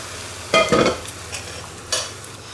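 Tomatoes tip into a frying pan of okra and onion and get stirred, giving a burst of sizzling with scraping stir strokes, then a brief quieter sizzle and a second short flare near the end.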